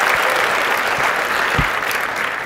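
An audience at a university startup competition championship event gives a strong, continuous round of applause, full and close for the whole stretch without talk.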